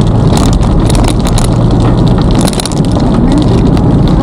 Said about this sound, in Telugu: మళ్ళీ ఇప్పుడు శ్రీనగర్కి రీచ్ అవ్వబోతున్నప్పుడు మళ్ళీ వర్షం పడుతుంది